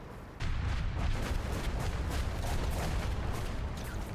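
Artillery fire in the War Thunder tank game, with a Chieftain Mk.3 under fire: a heavy boom breaks in after a quiet start and leaves a loud, dense rumble that holds to the end without talk.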